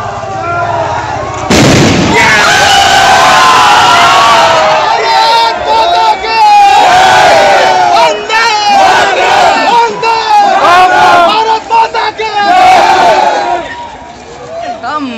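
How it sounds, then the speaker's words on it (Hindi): A hostel crowd shouts and cheers loudly to celebrate an India cricket win while firecrackers burst among the voices. The din is loud and continuous, with repeated sharp pops and sustained yelling. "पूरा हॉस्टल के लॉज के लड़का सब एकदम निकल के बम फोड़ रहा है, एकदम शोर मचा रहा है"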